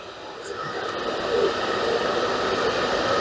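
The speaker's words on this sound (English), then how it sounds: "the hairdryer has actually put out a lot more heat" A steady, loud blowing whoosh of a hair dryer running continuously on double heat, powered from a portable power station, with broadband airflow noise and no talking.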